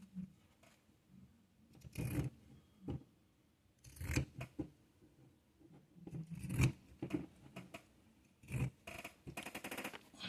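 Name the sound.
cutting a giant paper bag with scissors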